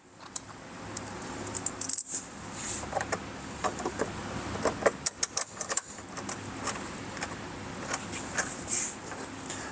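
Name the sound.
handling 1-inch countersink screws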